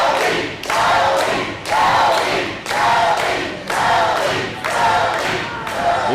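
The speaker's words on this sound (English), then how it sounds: "Crowd get behind Toby Farley." Wrestling crowd in East Tennessee cheering and chanting in loud rhythmic surges that rise and fall roughly every second, a dense, roaring arena sound with no clear talk on top.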